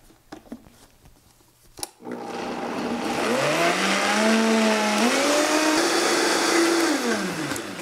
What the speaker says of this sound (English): So we're going to blend this up nice and thick until it's nice and creamy.